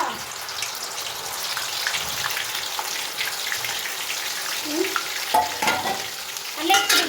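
Ingredients drop into hot oil and fry with a steady, close crackling sizzle, joined near the end by a few clinks and stirring knocks.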